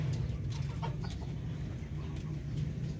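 Darag breeder chickens clucking softly among a farm flock during feeding on corn, low continuous murmuring clucks over a steady background hum.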